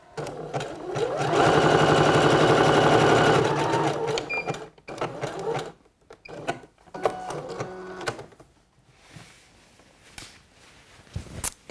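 A sewing machine stitches elastic onto a swimsuit leg opening, running in a fast steady burst for a few seconds, then slowing into short stop-start stitches and clicks as the seam is finished.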